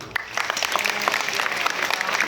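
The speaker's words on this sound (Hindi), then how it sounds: "ताली बजाओ।" An audience claps steadily at a spiritual gathering after a chanted "Om" verse, a dense spread of hand claps that is loud and sustained throughout with no clear pauses.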